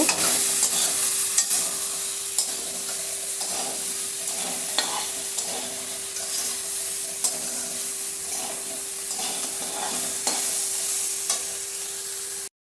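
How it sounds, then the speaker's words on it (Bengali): Soybean chunks fry with salt in a pan, giving a steady loud sizzle with soft stirring scrapes recurring through it and a faint steady hum beneath. "সবগুলো মিশিয়ে ভালো করে ভেজে তারপর ফোড়নগুলি দেব"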